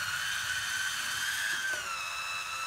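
Electric wine bottle opener motor whirring steadily as it pulls a cork, a continuous close high-pitched drone that shifts slightly in pitch near the end.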